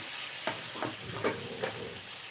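Moringa leaf rice being fried in a pan, with a soft continuous sizzle and four distinct spoon-scrape stirring strokes at a steady pace, close and fairly quiet.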